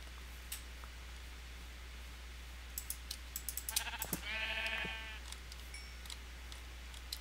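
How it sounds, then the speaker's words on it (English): Faint game clicks and taps, then one clear wavering sheep bleat in Minecraft, mid-volume against a steady low hum. "we're going to finish killing some of these sheep here real quick"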